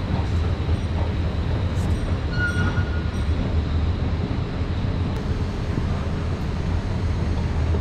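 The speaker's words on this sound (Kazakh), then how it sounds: "метроның ішіне түсеміз" A metro train in an underground subway station, a continuous low rumble with airy wind-like noise and faint metallic squeaks.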